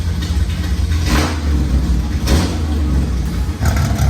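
Engine of a Nissan Datsun Fairlady Z running close by, a steady low throbbing idle with slight rises in revs, heard alone for several seconds.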